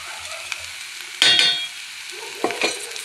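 Prawn curry masala with salt and chilli powder fries and sizzles in a pan under close stirring, with two louder bursts of scraping and sizzle.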